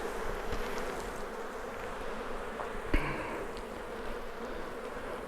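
Honey bees hum steadily at an open hive being checked before a move, a dense continuous buzz close to the microphone with one brief louder knock partway through, and no talking.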